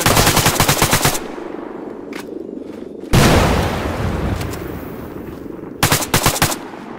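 Rapid automatic gunfire from a SPAR-17 rifle in the video game ARMA 3, loud close bursts at the start and end with distant shots and rumble between.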